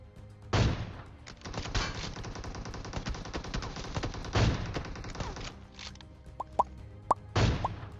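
Gunshots in the BGMI battle royale video game, a sustained rapid volley of loud, close reports with sharper single shots and brief pauses, ending in a final headshot crack.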